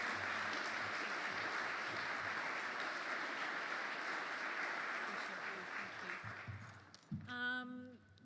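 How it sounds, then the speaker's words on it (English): Conference audience applauds, a dense wash of clapping that runs steady then fades out near the end, where a voice briefly speaks. "so we just a round of applause"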